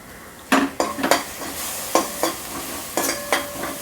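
A utensil scrapes and clinks against a pan as soaked moong dal is stirred into onions over a faint sizzle. There are several distinct, close stirring strokes in an uneven rhythm, with no voices.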